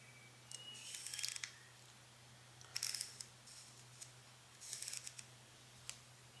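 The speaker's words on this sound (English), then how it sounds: "And this is also a click aperture" Clicks of the aperture ring on a vintage Nikon Nikkor-P.C 85mm f/2 rangefinder lens being turned, several short crisp detents in small clusters, faint and close against a steady low hum.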